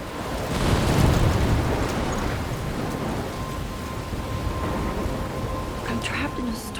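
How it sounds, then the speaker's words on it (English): A thunderstorm in the video game Life Is Strange: steady heavy rain hiss with a low rumble of thunder swelling early on, close and continuous throughout. "I'm trapped in a storm?"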